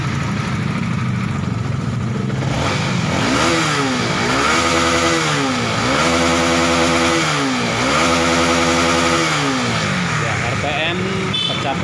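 A Honda CBR 150R New motorcycle engine, running rough and held at 2000 rpm after an injector cleaning, revs loudly and steadily in repeated rising and falling sweeps up toward 11,000 rpm, close by, with a voice heard faintly.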